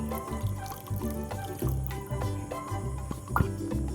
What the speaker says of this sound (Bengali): ওই দুধটার হাফ দুধ ছিল, সেটাও এবার আমি দিয়ে দিচ্ছি।